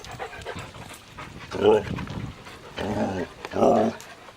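A six-year-old sled dog close by, making throaty, vocal growl-moans in several bursts with panting between them. A person talks briefly alongside.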